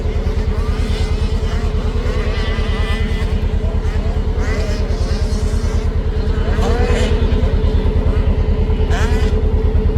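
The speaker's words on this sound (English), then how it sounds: "there appears to be a dirt track race event going on" Motorcycles racing at a dirt track event, engines droning steadily and loudly with a dense pulsing rumble and revving swells throughout, heard from a distance across the track.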